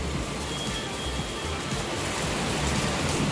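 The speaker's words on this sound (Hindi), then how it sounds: "बहुत तेज़ बारिश है," Heavy rain pours down on a rooftop in a dense, steady roar, loud and close, with no pauses.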